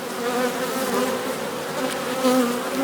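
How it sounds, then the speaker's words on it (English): Agitated honey bees swarm close by during a new queen introduction, producing a loud, dense buzz that hums continuously with slight rises and falls. "these are really antsy bees though."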